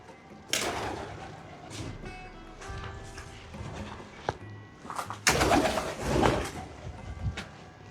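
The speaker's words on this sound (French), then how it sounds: "Désolé petits pigeons, je vous dérange." Pigeons coo and stir inside an abandoned religious seminary, with soft close coos and sudden bursts of flapping wings and rustling in an echoing space.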